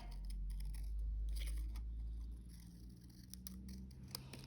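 Scissors cutting out circles for a simple circle-person craft: a close, steady run of crisp snipping and crunching blade strokes, with no speech.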